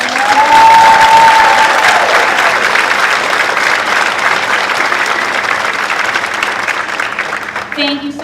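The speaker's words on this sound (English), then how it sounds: "Can we give them a round of applause for the hard" Steady, full audience applause fills a school gymnasium after an elementary school winter concert, with a whoop near the start, gradually easing as a voice returns at the end.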